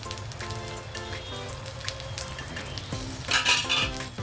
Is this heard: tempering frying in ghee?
yes